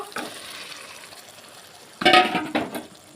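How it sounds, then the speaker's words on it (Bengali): Green peas tipped into a pan of fried spice masala land with a sudden burst of sizzling and stirring, a second smaller burst following, after a quieter stretch of low frying hiss. "মটরটা এবার দিয়ে দেব"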